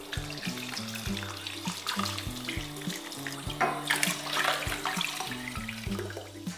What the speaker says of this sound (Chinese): 先用清水给它冲一冲